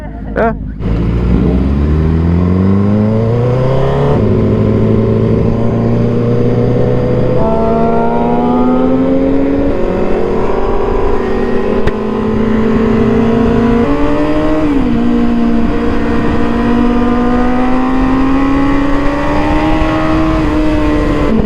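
A BMW S1000RR sport motorcycle engine in second gear, steady loud drone rising and falling through long revs and gear changes under constant wind rush, close up from the rider's position; distinct exhaust pops are not clearly separable.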